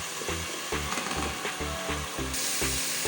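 Onions frying in a pan until brown for Lahori chana, a steady broadband sizzle with repeated low rhythmic thumps running through it, moderately loud and close throughout, no talking.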